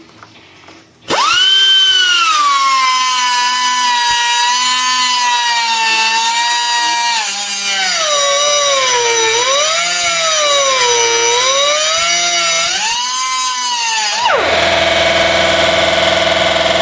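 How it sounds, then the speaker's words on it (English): Electric grinder running continuously on a Cortina GXL during restoration, a loud sustained whine that rises and dips in pitch under load for about thirteen seconds before cutting off abruptly. "The air tool wouldn't do it, but the electric grinder did."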